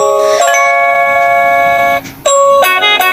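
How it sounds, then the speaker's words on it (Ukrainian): A bright melody of chiming bells rings out in clear sustained tones, pausing briefly before continuing, loud and close. "Що тут є такі цікаві дзвоники."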